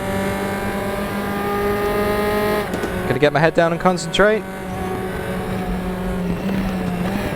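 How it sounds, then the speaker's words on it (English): Sustained engine drone of an F4 race car in RaceRoom Racing Experience at Macau, loud and steady, with a burst of rapid gear shifts and revs midway while someone talks briefly over it. "You guys enjoy the engine sounds, of which RaceRoom is known for."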